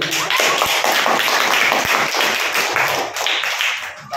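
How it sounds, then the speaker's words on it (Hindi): Children in a classroom clap together, a lively, steady round of hand claps with a few sharper individual taps standing out, close and fairly loud throughout. "ताली बजा दो"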